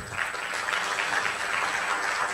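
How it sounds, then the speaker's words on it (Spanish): An audience at a medical talk claps in brisk, steady applause for an arriving speaker, a dense wash of hand claps throughout the short stretch with no voice over it. "Por favor, un fuerte aplauso para ella."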